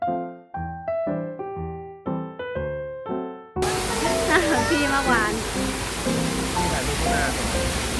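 Plucked melodic notes give way to a continuous rushing wash of falling water from a waterfall at a cafe entrance in Chonburi, broad and steady, with faint chatter mixed in.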